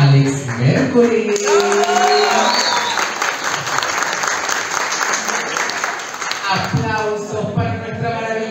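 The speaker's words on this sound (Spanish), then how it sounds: "Aplausos para el queridísimo Alex Mercury." Sustained applause from a talent-show audience at a Mo Talent contest, a steady wash of clapping through the middle, with a host speaking over it at the start and again near the end.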